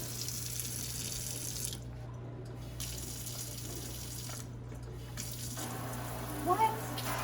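Water runs steadily from a kitchen faucet, a continuous close hiss that briefly cuts out twice, with a low steady hum underneath and a faint clink near the end.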